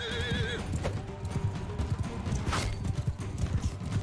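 In the medieval battle game Mount and Blade II: Bannerlord, a horse gives a shrill wavering neigh, then its hooves clop rapidly and continuously at close range amid faint battle noise.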